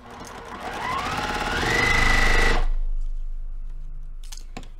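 A sewing machine runs steadily for about three seconds at a 2.0 stitch length, sewing a straight seam down quilt block fabric pieces, then stops abruptly, leaving near silence with a few faint clicks.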